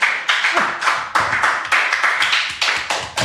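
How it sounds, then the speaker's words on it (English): An audience at a podcast comedy show claps in a dense burst of applause that continues steadily throughout, fairly loud and close, with no talk over it. "A round of applause,"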